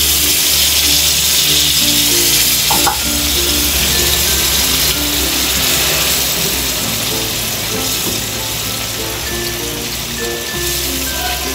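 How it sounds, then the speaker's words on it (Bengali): Water poured into a pan of small sea fish curry after the spices are cooked down, a steady rushing splash with bubbling that carries on continuously, fairly loud and close, with no talking. "জল ঢেলে দিচ্ছি।"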